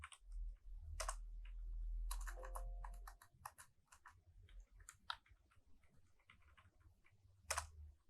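Faint keystrokes of code being typed on a computer keyboard, with scattered clicks and short bursts spread over several seconds against a low background rumble.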